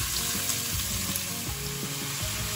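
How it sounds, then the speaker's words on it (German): Chopped onion fries in plenty of oil in a pot for potato goulash, giving a loud, continuous close sizzle with a few soft scraping stirs and no voices. "Der Zwiebel wird jetzt langsam goldbraun geröstet."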